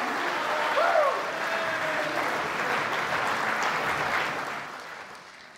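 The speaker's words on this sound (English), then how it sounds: "Ladies and gentlemen, another big round of applause for our parents tonight." Wedding guests applaud after the speeches, a full, even round of clapping that holds steady before tapering off toward the end, with a voice briefly audible near the start.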